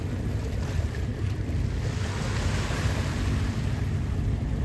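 Steady low engine rumble of a crew boat on open water, with wind noise and wash of water, continuous and moderately loud.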